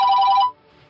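A telephone rings in a movie scene, a loud electronic bell tone repeating rapidly for about half a second before cutting off into quiet room tone, with no talk over it.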